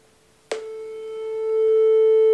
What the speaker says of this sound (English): Let's try with 440 Hz.